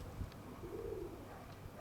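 Pigeons softly cooing outdoors on a day of strong wind, one low, faint coo under steady wind noise.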